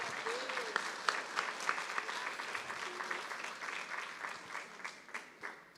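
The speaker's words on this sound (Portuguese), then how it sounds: "Você pode dar uma linda salva de palmas para o Senhor?" A church congregation claps for the Lord in a sustained, moderately distant round of applause. The clapping runs steadily with a few brief sung or spoken tones drifting over it.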